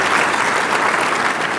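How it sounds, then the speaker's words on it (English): Sustained audience applause at an energy symposium keynote honoring an event organizer, a loud, dense wash of clapping from a large crowd filling the whole moment without pause. "Let's hear a round of applause for Tom Dowdy"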